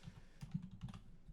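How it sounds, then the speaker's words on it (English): Quiet keystrokes on a computer keyboard, a short run of soft, uneven taps at low level with no voices. "So let's actually type this all out."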